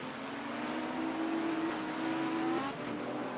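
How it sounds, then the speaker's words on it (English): Porsche race cars on Sonoma Raceway approach with a steady, loud engine drone, one rising whine holding for a couple of seconds before the sound drops away near the end. "a couple of Porsches coming up close."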